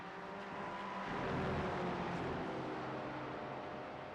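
LMP3 prototype race cars lapping WeatherTech Raceway Laguna Seca, a steady engine drone that swells to a louder pass in the middle and then eases off, continuous with no clear voices.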